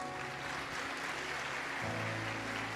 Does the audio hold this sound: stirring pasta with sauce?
no